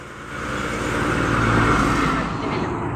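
A free public bus passing by on a rural road, its engine rumble swelling loud and close then easing away over a few seconds, with no talk over it.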